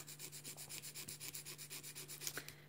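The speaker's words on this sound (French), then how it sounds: "Et je vais limer vers l'intérieur." A gel nail tip capsule is filed inward with a nail file, producing a brisk, even series of about fourteen rasping strokes, close and steady, ending with a faint tap.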